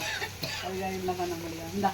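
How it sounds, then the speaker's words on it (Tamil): Fish curry boiling in a pot in a village kitchen, a steady close bubbling and sizzling hiss with a faint voice murmuring underneath. "குழம்பு இப்போதான் கொதிக்குது"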